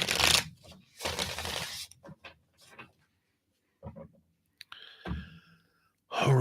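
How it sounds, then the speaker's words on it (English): Arcanus Animal Tarot cards being shuffled by hand, a few brief riffling and flicking rustles separated by pauses, close and moderately loud. "Let me give them a quick shuffle here."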